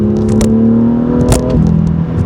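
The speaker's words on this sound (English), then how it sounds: "I think I prefer the sound of this over M3, M4 exhaust, because it's a slightly different engine, right?" A 2018 BMW M2 with M Performance exhaust drones steadily and loud while driving, its engine note holding a constant pitch, with a few brief crackles and clatters from the exhaust.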